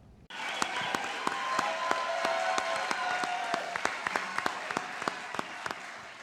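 A crowd at a mayoral candidates' debate bursts into sustained applause and cheering, with dense, close clapping holding steady and a few sharp individual claps standing out near the end.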